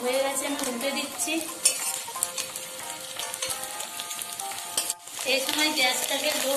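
Fish roe fritters sizzle steadily in hot oil in a pan over a low gas flame after being turned over, a dense close crackle that briefly dips near the end before surging back.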